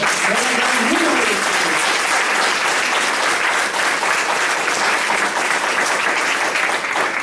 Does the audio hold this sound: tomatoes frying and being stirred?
no